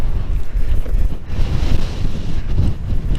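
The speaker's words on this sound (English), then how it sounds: "I guess y'all can hear the wind." Heavy wind buffets the microphone in loud, gusty low rumbles that rise and fall, with no voices.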